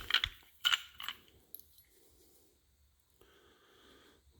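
Small metal parts, a lock washer and nut, clink and rattle in a few sharp bursts while being handled on an old roadster car, followed by quieter faint fiddling and a soft hum.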